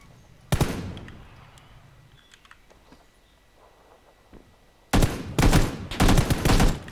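Gunfire in the battle-royale game PLAYERUNKNOWN'S BATTLEGROUNDS: a single loud shot, a quiet stretch, then a rapid cluster of sharp, close bursts of automatic fire.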